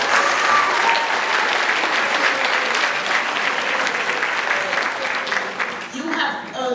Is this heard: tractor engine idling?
no